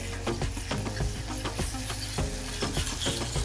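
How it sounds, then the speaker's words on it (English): Garlic frying with a little turmeric in a pan gives a steady, close sizzle with crackly pops and a few scrapes from stirring, running continuously with no talk. "I can hear my garlic sizzling a little bit"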